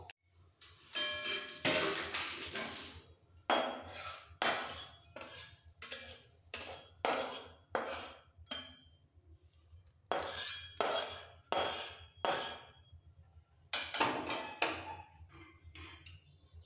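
A spoon stirs a tempering of black mustard seeds into raw peanut chutney, giving repeated bright clinks and scrapes against the bowl in close, irregular bursts with short pauses between, and no talking.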